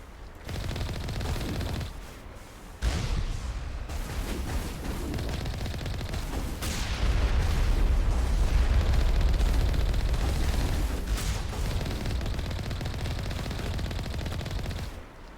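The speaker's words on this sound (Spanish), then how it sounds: "Estoy viendo un montón de disparos" Rapid bursts of video game gunfire from Mass Effect crackle almost continuously, with heavier booming volleys and explosions mixed in, loud and dense throughout.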